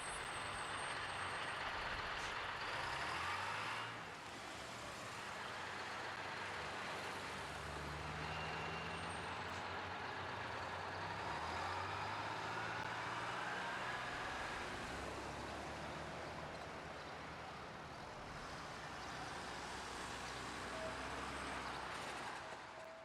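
A 30-foot Toronto city bus, number 8957, pulls into Woodbine Station with a steady diesel drone, shifting engine tones and a hiss of air brakes, loud and close amid station noise.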